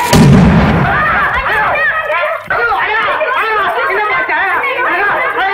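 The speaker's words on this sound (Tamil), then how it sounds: "ஐயோ, வெடிச்சேங்க உள்ள இருக்குது" Firecrackers burst inside a house in an old Tamil film comedy scene, a loud blast at the start followed by crackling pops under frantic chattering voices.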